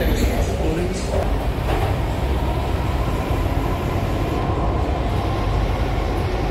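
A Delhi metro train runs between stations, with a loud, steady rumble and rattle from inside the carriage, continuous throughout, and voices talking faintly under it.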